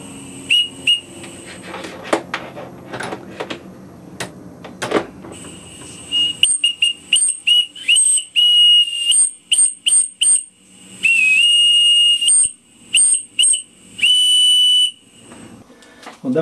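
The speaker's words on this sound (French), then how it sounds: "Qu'une machine à vapeur sans siffler, c'est pas une machine à vapeur." A steam engine whistle sounds in a series of shrill, piercing blasts of varying length, some long and sustained, others short and clipped, following earlier hissing and clanking from the machine.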